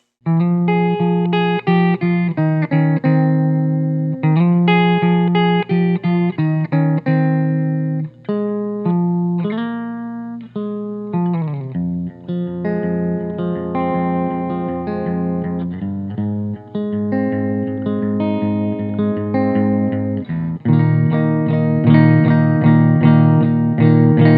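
A clean electric guitar on the middle pickup position, through an Epiphone Valve Jr tube amp, plays chords and single-note lines with a warm tone and light reverb, sustained notes ringing out continuously, no voices.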